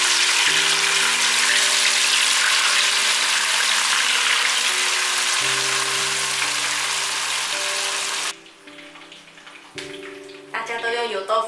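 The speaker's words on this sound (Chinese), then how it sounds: "把油豆腐放进来炸。" Fried tofu puffs crackle and sizzle steadily in a pan of hot oil, a dense bright hiss that runs loud for several seconds before cutting to quieter kitchen sounds as music plays underneath.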